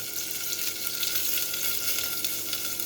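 Curry leaves and cinnamon sticks sizzle steadily in hot ghee, a dense continuous frying hiss that stays close and loud from start to finish, with no talking.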